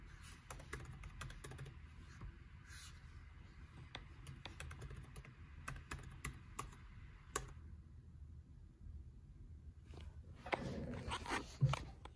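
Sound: typing credentials on a laptop keyboard

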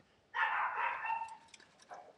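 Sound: dog barking

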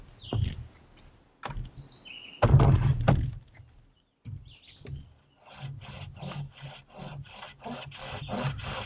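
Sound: handsaw cutting a notch in wood

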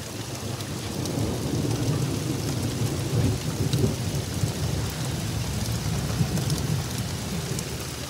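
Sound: heavy rain

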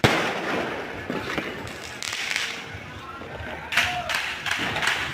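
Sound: New Year fireworks being set off

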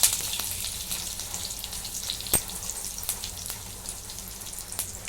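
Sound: mustard seeds and spices sizzling in oil

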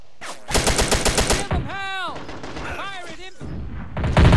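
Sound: gunfire and artillery from a video game battle

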